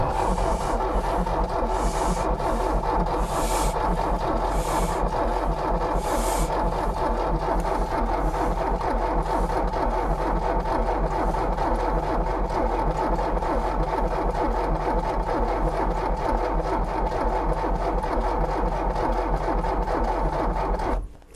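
Mercedes engine cranking over continuously on the starter without catching, a loud, steady, rhythmic churning that runs for about twenty seconds before cutting off abruptly.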